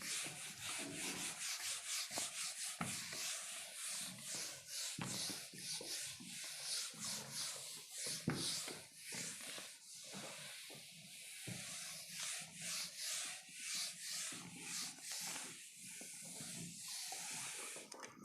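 Repeated rubbing strokes of an eraser wiping a board clear during a maths lesson, a soft scratchy swishing in irregular bursts with no speech.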